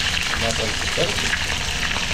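Steady, loud sizzling and crackling of fish frying in hot oil, a dense continuous hiss with small pops.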